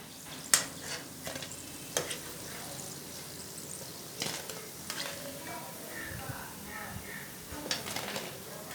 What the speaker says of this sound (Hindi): तो इसी तरीके से बाकी पकौड़ों को भी हम अच्छे से फ्राई कर लेंगे।